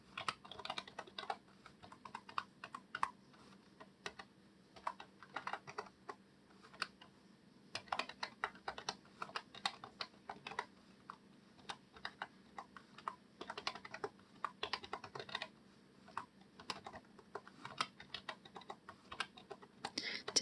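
Numbers are entered on a computer keyboard in quick, irregular bursts of light clicking keystrokes with short pauses between runs, close and quiet in an otherwise still room.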